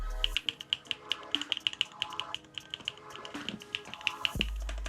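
Rapid clacky keystrokes on a Vertex Arc 60 mechanical keyboard with Camping Life switches, close by, with a steady uneven rhythm of crisp taps over a faint background hum.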